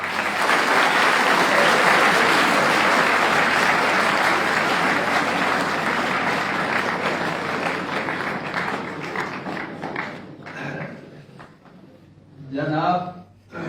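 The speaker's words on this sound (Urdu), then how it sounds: "کی بھرپور تالیوں میں" A hall audience at a college gathering bursts into loud, dense applause to welcome a professor, sustained for about ten seconds and then thinning out, with a voice breaking through near the end.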